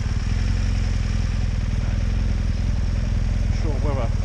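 A BMW 1200 GS motorcycle rides along with a steady, close engine drone and rhythmic clatter throughout, and someone talks over it near the end.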